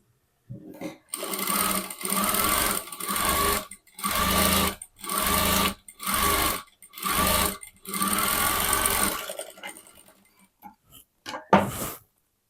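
A sewing machine stitches a blouse in rapid bursts, running for a second or two at a time with short pauses between, loud and close, then stopping.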